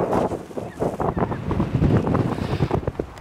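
Wind gusts steadily across the open volcanic slopes of Teide, buffeting the microphone with a continuous, rumbling roar that swells and eases throughout, with no voices.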